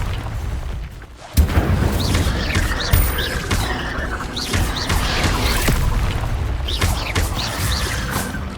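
Incendio fire spells cast in combat in Hogwarts Legacy give loud, repeated whooshing bursts and booms, one after another over a rumbling battle backdrop with no talking.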